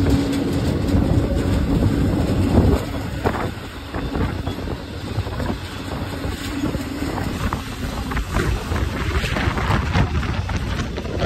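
A steady, rumbling roar and rattle of a freight train heard from aboard, between Oakland and Roseville near Sacramento, loud and close, with wind noise and a clatter that eases slightly partway through.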